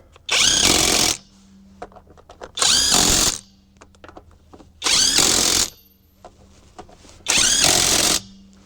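A 20V Alloyman 1/2-inch cordless impact wrench runs four loud, close bursts of about a second each, evenly spaced with short pauses, as it tightens wheel lug nuts.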